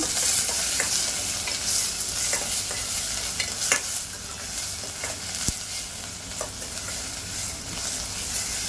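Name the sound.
onions sautéing in a pan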